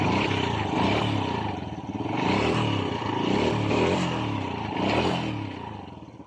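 A Honda Wave 100 motorcycle engine in poor condition revs loudly and steadily up close, with rough clattering mechanical noise and several surges in pitch over its full length.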